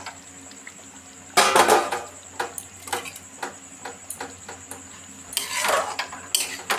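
Boiled eggs go into a pot of thick egg curry gravy with metallic clanks and scrapes of a spoon against the pot, a few sharp bursts followed by lighter intermittent taps and stirring.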